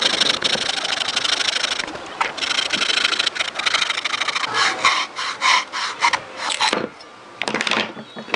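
Hacksaw blade cutting through wood for a small mobile stand, loud rasping strokes back and forth in a steady rhythm, turning into shorter, choppier strokes toward the end, with no talking.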